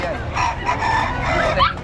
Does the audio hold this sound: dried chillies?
no